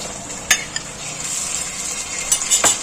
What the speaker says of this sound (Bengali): আমি একটু নাড়াচাড়া করে দেবো আলুগুলো একটু কষাবো